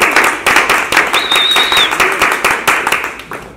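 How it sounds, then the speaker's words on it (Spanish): Audience applause at a wine tasting of cooperative, agroecological wine in a farmers' store, with dense steady clapping from a small crowd across the whole span and a brief whistle partway through. "Vamos a hacer un aplauso por eso"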